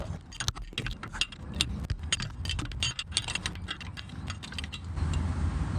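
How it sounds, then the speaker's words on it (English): Wrench turning a transmission pressure sensor on a first or second generation Honda Pilot, with close metallic clicks and ratcheting taps in an uneven run, followed by a steadier low rumble. "I'm gonna give it 1 or 2 revolutions with the wrench wherever it went"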